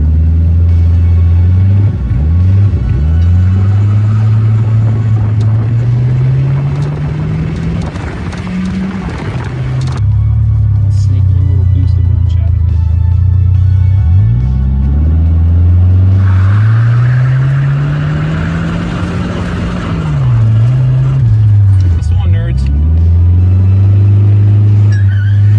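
A turbocharged Chrysler LeBaron engine revs up and down repeatedly, loud and close, with deep rumbling swells and sharp blips between rises, no voices over it.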